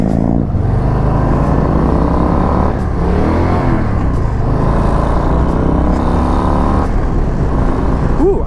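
Harley-Davidson Low Rider ST motorcycle with a 117 engine rumbles steadily while riding, a loud, continuous low throb with rising and falling revs as gears shift, carrying on throughout without speech.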